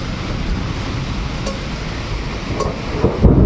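Steady rain pours throughout a Kalbaishakhi storm in a village, with a low rumble of distant thunder building toward the end.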